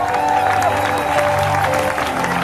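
Worshippers at a church service applaud and cheer to acclaim Jesus as King of Kings, a dense, continuous burst of clapping over a held musical tone.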